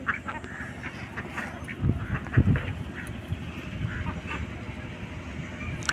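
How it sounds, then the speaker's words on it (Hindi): Small ducklings and a larger duck quack in bursts over a steady rustling outdoor background, with a brief louder call near the middle and a person speaking nearby. "छोटे छोटे बतख हैं"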